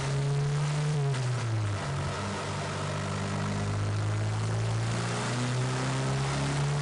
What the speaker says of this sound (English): In this run, the turbo spools up faster